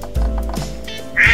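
A cartoonish duck quacks in Roblox, two or three loud, close quacks in quick succession with no talk.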